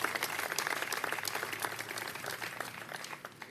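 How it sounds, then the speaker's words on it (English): A crowd at a mayoral event gives dense, steady applause, moderately loud and continuous before tapering off slightly. "give yourselves a round of applause"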